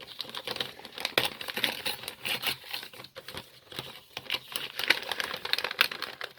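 Pretty wrapping paper on a happy mail package crinkles and tears in quick, irregular bursts near at hand, with short pauses between handfuls of rustling.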